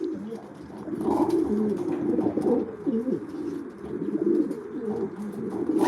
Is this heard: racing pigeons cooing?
yes